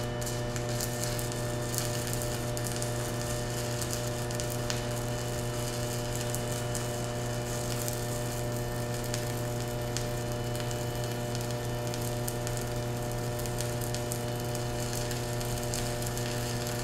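A Chanharm 160A dual-voltage DC stick welder runs at 60 amps on 1/8 inch bar, giving a steady crackling sizzle over a constant electrical hum, continuous and close with no talking.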